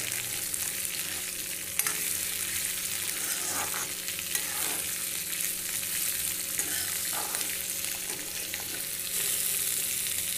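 Chopped ivy gourd (kundru) frying with onion in an open pan for a bhindi-kundru mixed vegetable, a steady close sizzle broken by intermittent scraping stir strokes, no talking.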